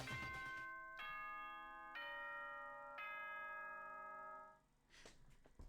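A bell chimes three times at a steady pace of about one strike per second, each ringing tone lingering and fading before the next, closing out a Danganronpa finale with a short noisy tail at the end.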